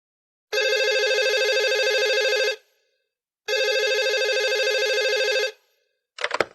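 A telephone rings before a call is answered, sounding as two long, loud electronic rings separated by a pause, followed by the start of a third short ring.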